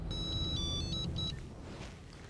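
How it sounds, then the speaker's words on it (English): A small satellite phone rings with a bright electronic warble in a few short bursts, up close over low background rumble, and then falls quiet. "His tiny satellite phone keeping him connected."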